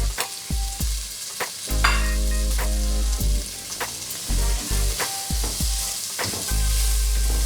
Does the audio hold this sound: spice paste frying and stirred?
yes